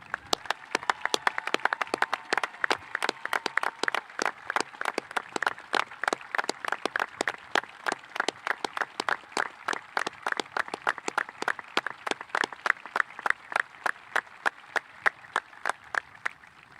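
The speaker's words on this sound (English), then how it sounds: "Please join me in giving me all a round of applause for these students and their service." Graduation audience at the Grafton High School ceremony in Grafton, Wisconsin, claps for students honored for their service: a steady, fairly rhythmic patter of individual claps, moderately close, thinning slightly toward the end.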